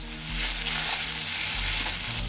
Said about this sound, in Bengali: 1টা চামচ আমি কাঁচা শুকনো লঙ্কা বাটা দিচ্ছি, দিয়ে এটা আমি ভালো করে কষিয়ে নেব